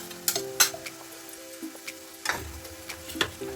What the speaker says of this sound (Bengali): এই আদা পেঁয়াজ রসুনের যে বাটাটা যেটা রেখেছি সেটা আমি এর মধ্যে দিয়ে দিচ্ছি